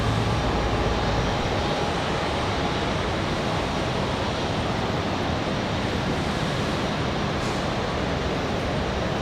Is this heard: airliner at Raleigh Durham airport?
yes